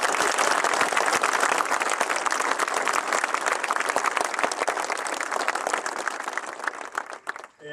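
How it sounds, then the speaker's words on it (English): An audience at the Gatekeeper roller coaster dedication ceremony at Cedar Point claps in a dense, steady round of applause that holds strong for several seconds, then thins and fades out at the end. "So can we just give them another round of applause?"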